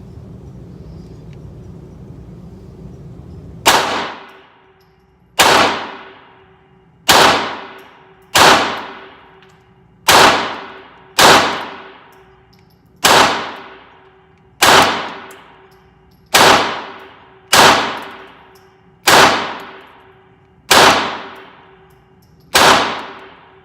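Single shots from a Taurus TX22 .22 pistol crack out at an outdoor shooting range, about thirteen sharp reports spaced a second or two apart, each ringing briefly before fading.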